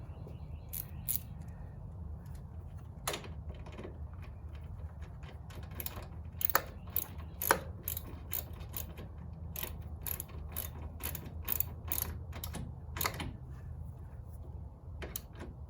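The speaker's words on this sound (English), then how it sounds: "And then we'll tighten that back up." A hand ratchet tightens the mount of a switch pod on a Jeep Wrangler JK, making repeated sharp clicking bursts in irregular runs over a low steady background hum, close by.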